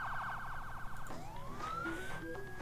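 An ambulance siren sounds in the video game Emergency 4, a rapid warbling wail that switches to a slow rising tone partway through, with background game sounds underneath.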